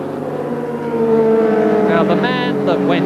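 A Lola 610 race car with a 3.3-litre DFL engine runs at Brands Hatch in a 1984 Thundersports race, its loud engine tone rising as it passes, with a commentator speaking over it.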